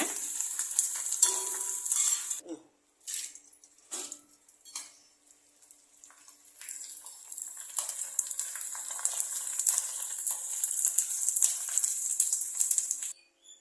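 Rice murukku vathal fry in hot oil, bursts of bright crackling sizzle broken by brief pauses, then a long dense sizzle with rattling stirs, close up and alone.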